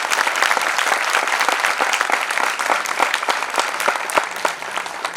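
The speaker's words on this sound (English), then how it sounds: "Can we have a huge round of applause, guys?" A crowd at a college event gives loud, dense applause, many close hands clapping in a continuous, energetic burst with no talking over it.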